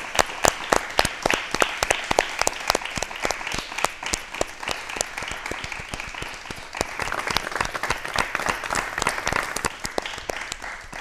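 A studio audience at a health and yoga talk show bursts into sustained applause, dense rapid clapping from many hands that carries on steadily for about eleven seconds with no voices over it.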